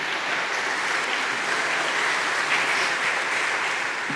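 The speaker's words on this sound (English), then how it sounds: "A round of applause for yourselves." An audience at a book talk gives a steady, even round of applause, many hands clapping together at a moderate distance with no voices.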